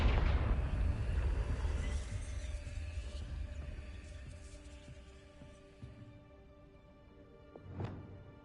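A Confringo blasting spell goes off in Hogwarts Legacy, a heavy low booming burst at the start that rolls into a long rumbling decay, followed by a sharper flare of sound near the end.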